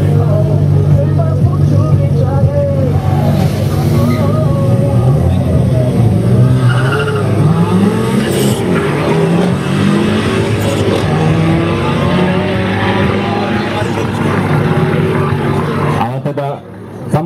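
A turbocharged Skoda 120 and an Audi RS6 launch in a drag race, with loud engines climbing through the revs, tires squealing and a roaring, continuous rush of noise that lasts until an abrupt cut near the end.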